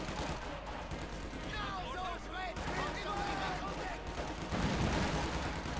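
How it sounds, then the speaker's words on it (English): MG42 machine gun bursts and other battlefield gunfire rattle continuously under an excited caster's commentary during a 1v1 Company of Heroes 2 match, with layered explosions and shots at moderate loudness. "the squad being stopped here by the MP42"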